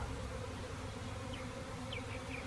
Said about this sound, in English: when bees swarm, they're generally pretty docile